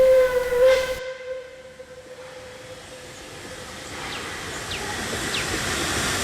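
Puffing Billy, a narrow gauge A6 class steam locomotive, gives a loud, close, sustained steam whistle lasting about a second, then a steady hiss of escaping steam with faint rail and train noise that builds gradually.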